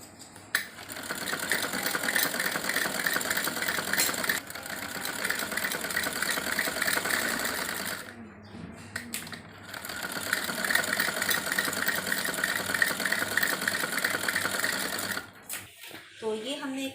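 A sewing machine stitches a half-inch seam on a salwar made from warm winter fabric, running in long steady bursts with a short pause midway and quiet talk over it.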